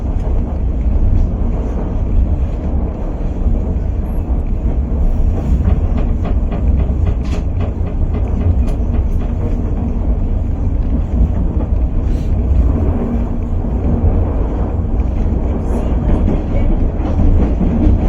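A White Pass railway train in Skagway, Alaska rumbles steadily along the rails, with a constant low roar and faint rhythmic clicking of wheels, loud and close throughout.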